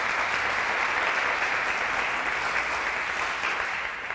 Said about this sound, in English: Let's give Rosemead Primary another round of applause.